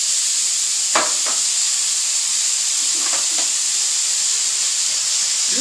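Corned beef slices warm on a hot pan for a St. Patty melt, giving a steady, even sizzle and hiss that runs unbroken throughout, with a couple of faint clinks or scrapes from handling the meat.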